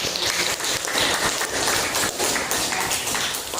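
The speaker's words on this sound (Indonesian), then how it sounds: "Berikan tepuk tangan" A classroom of students claps for the winning group, a quick patter of moderate applause that carries on evenly throughout.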